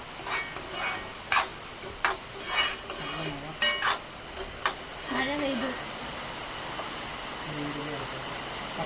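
Chopped onion for kadai chicken is stirred in a pan with a spatula, giving soft intermittent scrapes and clinks over a low sizzle while someone talks throughout.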